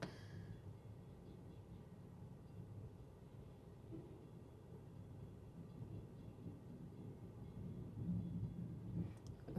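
A low, steady rumble of a freight train rolling past, continuous and moderately distant, growing slightly louder toward the end.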